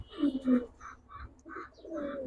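Silver Pankhi and Cobra pigeons give a steady run of soft, pulsing coos, about six evenly spaced notes ending in a longer drawn call, quiet and close.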